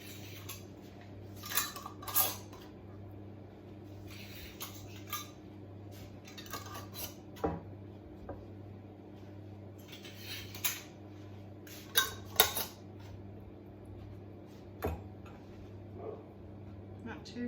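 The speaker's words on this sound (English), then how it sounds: "Now I'm going to pop these lids on." Fresh lids are set onto glass canning jars of beef stroganoff, making faint scattered metallic clinks and taps over a low steady background hum, sparse and soft, with no clear talking.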